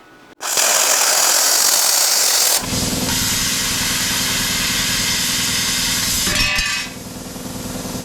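An Arccaptain CUT50 plasma cutter cuts 1/8 inch aluminum with a sudden loud hissing roar of air and arc, which shifts to a buzzier tone midway and then fades as the cut ends.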